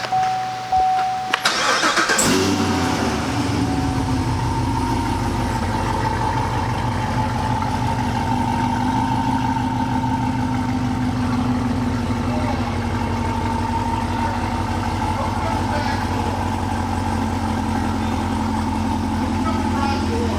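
A Whipple supercharged V8 in a Chevy SS, running flex fuel, catches after a brief crank and settles into a steady, throaty idle that runs on loudly and evenly for the rest of the clip.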